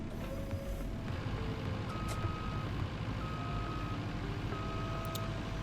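A forklift in a simulator video game reverses with repeated, evenly spaced electronic backup beeps over a low, steady engine rumble, fairly quiet overall.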